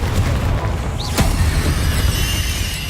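Bombarda explosion spell in the Hogwarts Legacy video game, a loud booming blast with a quick bright crack near the middle, set over a dense rumbling background.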